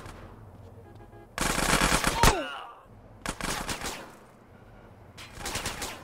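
Automatic gunfire in GTA San Andreas: three separate bursts of rapid shots, loud and close, with short quiet gaps between them.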